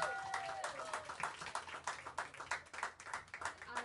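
An audience applauds a band at Pianos, a New York City venue, with a dense patter of hand claps and scattered voices, steady and fairly close for a few seconds.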